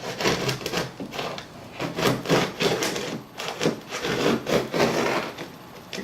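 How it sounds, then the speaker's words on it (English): Wood glue being scraped off a wooden joint on an HO scale model railroad, giving close, repeated rasping strokes in an irregular rhythm with short pauses between them, and no talking. "I'm scraping up all the glue, and this is why I use wood glue."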